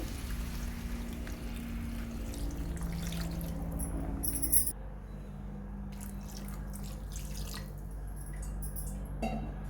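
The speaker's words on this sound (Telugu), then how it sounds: "ఇలా పీతలు ములిగేంత వరకు వాటర్ వేసుకోవాలండి" Water poured into a cooking pot of crabs mixed with turmeric and salt, a steady trickling, dripping stream that runs continuously, then drops in level partway and carries on more softly with scattered splashes.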